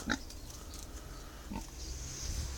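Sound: pigs grunting

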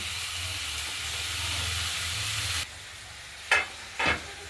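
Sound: frying chopped spring onions in mustard oil

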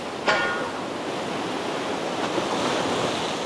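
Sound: ocean waves crashing on the shore while lure fishing

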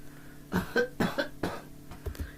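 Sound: cough

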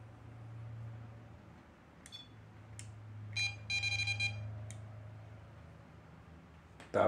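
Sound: electronic device beeping

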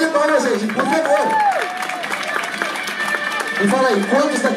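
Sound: audience applause at cosplay parade

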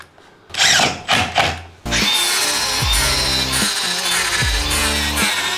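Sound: power drill driving screws into plywood workbench

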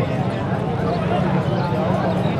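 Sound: horse hooves clip-clopping at horse market

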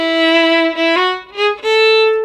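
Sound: first ending of a waltz played on instrument

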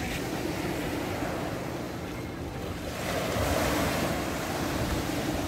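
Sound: sea waves on a sandy beach at Kabardinka

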